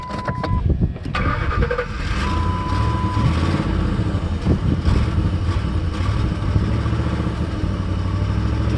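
Computer-controlled engine running on propane, held at high RPM with the throttle pressed, a loud, steady, close-up rumble with a brief tonal whine near the start.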